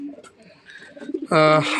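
Racer pigeons in a loft, with a soft murmur of cooing and a louder, close coo swelling near the end.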